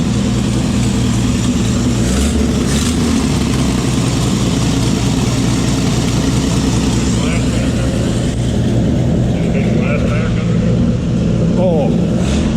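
A 1954 Chevrolet grain truck, a barn find started for the first time in years, idles with an exhaust leak, giving a steady rough chugging putter close by, with a few louder revving swells and brief clattery ticks throughout.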